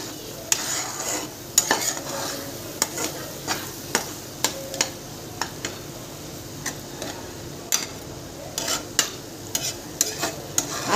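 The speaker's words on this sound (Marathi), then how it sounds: "धना पावडर टाकते थोडीशी. मस्तपैकी मसाला फ्राय होतोय आता." Masala with coriander powder frying in a pan for a chicken curry, with a steady low sizzle and regular sharp ticks of a spatula scraping and stirring throughout.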